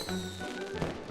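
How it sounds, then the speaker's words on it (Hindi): Firecrackers burst in a children's cartoon, a short muffled crackle with a pop near the end, faint and mixed with a sustained musical tone. "उन रंगीन पटाखों को देखो।"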